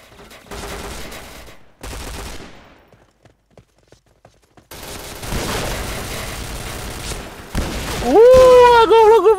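Shotgun fire in the PC shooter game Point Blank, heard as bursts of dense, rapid gunfire with brief gaps and isolated single shots, ending in rising electronic game tones.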